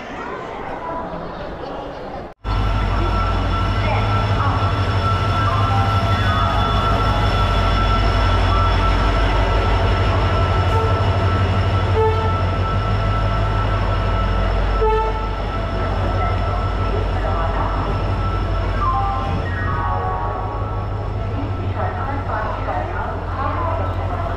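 A Howrah-to-Puri train at a railway station rumbles loudly and steadily, with a sudden onset as it starts up, a horn sounding, and wheel clatter continuing under distant voices.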